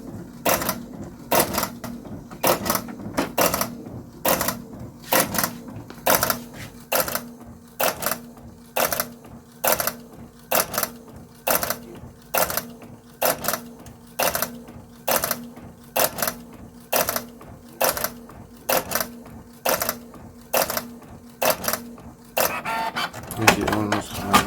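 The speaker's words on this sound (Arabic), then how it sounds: "وتاخد اول اوردر لطباعة اول نسخة" A printer producing the first copy of a print, with rapid, evenly spaced mechanical clacks repeating in a steady rhythm under a low hum, then a burst of different machine noise at the end.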